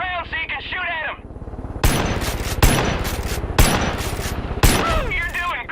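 Bursts of Far Cry 5 gunfire ring out in four sharp, loud volleys of rapid automatic shots at roughly even intervals, with a character's voice speaking just before the first burst and again near the end.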